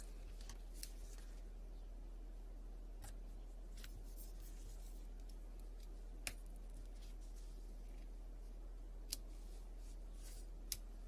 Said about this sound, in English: I have to use the scissors.